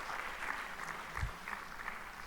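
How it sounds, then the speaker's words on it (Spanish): Brief, fairly faint applause from a church audience for the Americans present, a soft continuous patter of clapping with a dull thump near the middle. "Un aplauso para todos los americanos."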